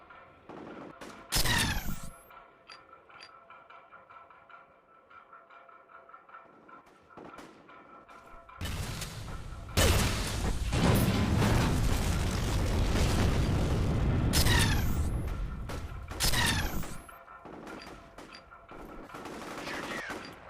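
Rocket explosions and gunfire in the shooter game F.E.A.R., loud sustained booming blasts and rattling shots that swell through the middle, with sharp cracks before and after.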